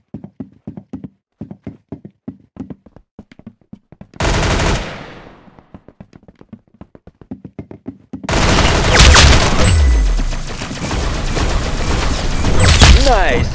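Rapid, close gunfire from Roblox Arsenal, first as quick runs of sharp shots, then in loud dense bursts of sustained automatic fire, the last stretch a continuous heavy barrage.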